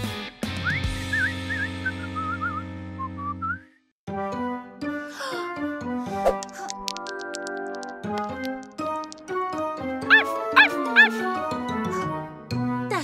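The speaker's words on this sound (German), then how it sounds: "Das war definitiv Hundebellen." A cartoon dog in a children's animated series yips and barks in short bursts among bright music and whistle-like tones, after a brief pause near the start.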